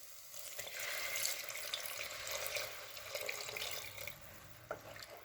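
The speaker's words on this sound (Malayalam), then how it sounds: "ആവശ്യമായിട്ടുള്ള വെള്ളം ചേർത്ത് കൊടുക്കാം." Water pours steadily into a pot of coconut fish curry for a few seconds, a close, rushing splash that tapers off, with a small clink near the end.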